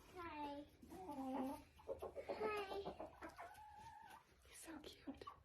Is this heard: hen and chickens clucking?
yes